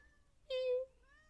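A single short, clear meow voiced by a person imitating a cat, rising briefly and then fading, with quiet background before and after.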